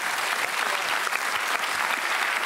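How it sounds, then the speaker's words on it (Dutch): Studio audience applause on a Dutch television quiz show, a thin, even patter of clapping that runs steadily without voices on top. "Dus ja, zouden we toch applaus kunnen krijgen?"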